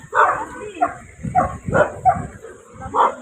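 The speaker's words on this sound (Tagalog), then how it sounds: "Ate, may mga aso." Several dogs bark and yip in short bursts, fairly close, with a few whiny yelps mixed among them over a steady background hum.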